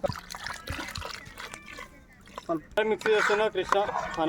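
Water trickles and splashes briefly near the microphone, followed by people chatting close by.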